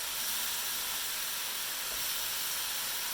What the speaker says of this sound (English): breaking the mince up a little bit, spreading it out in the pan a little bit, so that it'll cook through fairly quickly